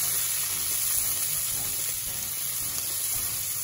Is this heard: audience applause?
no